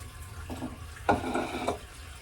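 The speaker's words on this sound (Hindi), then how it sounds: "तो बस मैंने दाल धो ली है" Warm tap water from a geyser runs in a home kitchen while lentils are washed, giving short splashy bursts of flow over a low background hum.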